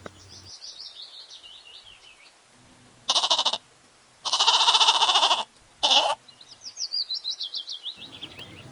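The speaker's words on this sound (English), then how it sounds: "G for goat." Goat bleating in three loud, harsh bursts with short gaps, set against light bird chirping before and after.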